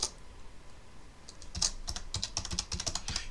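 A computer keyboard clicks in a quick, irregular run of close keystrokes as a search query is typed, starting after a brief quiet pause.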